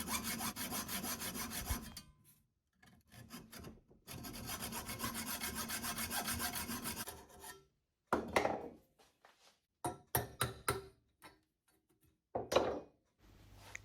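Rasping back-and-forth hacksaw strokes cut through a cast aluminium fork lug on a Kawasaki S1 550 motorcycle in two long sustained bursts, then give way to shorter, scattered scrapes and knocks, close and fairly loud.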